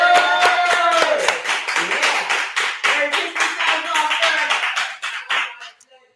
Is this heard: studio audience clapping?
yes